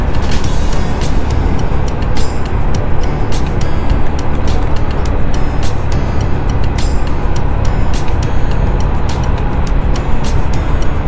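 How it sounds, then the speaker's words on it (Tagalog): Dense city road traffic at night in Bonifacio Global City, Taguig: a constant loud roar of cars, buses and trucks, with repeated sharp hisses of air brakes cutting through the rumble. "Traffic talaga rito lagi, araw-araw."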